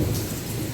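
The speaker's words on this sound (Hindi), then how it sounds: "मैं गीली भी हो चुकी हूँ बारिश कैप्चर करने के चक्कर में" Heavy rain pours steadily during a thunderstorm under a shed roof, a dense close hiss with a deep low rumble of thunder beneath, all in a brief continuous stretch without talk.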